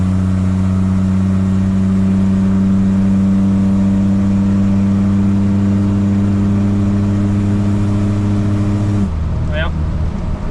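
A Chevrolet Squarebody truck engine held at full throttle while parked in a carport, roaring loud and steady for about nine seconds before dropping off sharply near the end.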